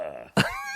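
A voice imitates a cough from a singer, giving one short, loud, throaty burst after a brief pause, close to the microphone and heard alone.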